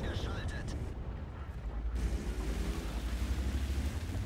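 Heavy booming tank-gun fire and rumbling impacts from a World of Tanks battle, with a deep continuous low roar and a sharper burst near the middle, loud and close in the game mix.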